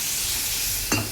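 Water poured into a pan of mustard paste sizzling in hot oil for a tilapia curry, giving a sudden loud hiss and burst of frying noise near the end of a steady low sizzle.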